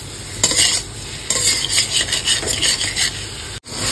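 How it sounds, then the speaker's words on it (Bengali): Ground and paste spices get mixed together in a pan while cooking a taro and snakehead fish curry. A metal spoon rasps and scrapes against the pan in quick, close strokes over a faint sizzle and ends with a sharp clunk. "তো খুব ভালো করে এবার সমস্ত গুঁড়ো মশলা এবং বাটা মশলা একসাথে মিশিয়ে নেব।"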